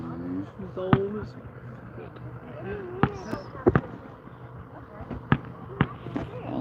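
Scattered fireworks pop and crack at irregular intervals, sharp but moderately distant, while people talk quietly in the background.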